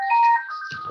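A mobile phone ringtone plays a short, clear electronic melody of bright tones, loud and close, with no talking over it.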